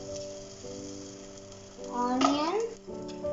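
Ginger and garlic fry in a pan with a soft, steady sizzle beneath sustained tonal sounds and a brief gliding, voice-like tone midway.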